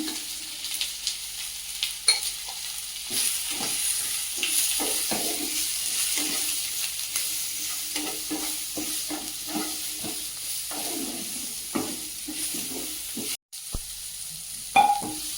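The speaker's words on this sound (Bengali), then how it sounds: "মশলাটা ভালো করে ভেজে নিয়েছি হালকা ভেজে নিয়েছি" Spices with turmeric and salt fry in a pan for a fish curry, giving a continuous sizzle and hiss broken by repeated stirring scrapes over several seconds.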